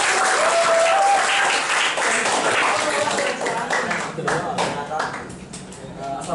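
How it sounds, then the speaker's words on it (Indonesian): A high school economics class claps together in dense, lively applause that fills the room, then gradually thins out and fades. "Tepuk tangan."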